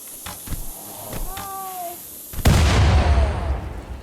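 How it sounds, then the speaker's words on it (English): Video game explosions in a survival game: a few soft thuds, then a single loud boom that rolls on into a rumbling hiss, mid-distance and without speech. "Where did the explosions come from?"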